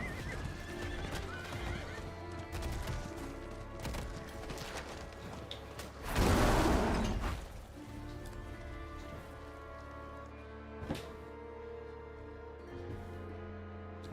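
In a video game, a horse gives one loud, sharp neigh partway through while hooves clip-clop steadily against a continuous bed of tonal game ambience and rain-like patter.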